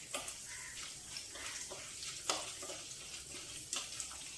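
Beans and carrot frying in a pan, a faint, soft sizzle with occasional light scrapes and clicks of stirring, no one speaking.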